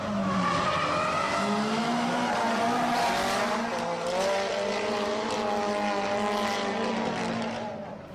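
Drift cars, a red Mazda RX-7, a Nissan S14 and a pair of 180SXs, battle at Nakayama circuit with long sustained tire squeals over revving engines, loud and continuous for several seconds.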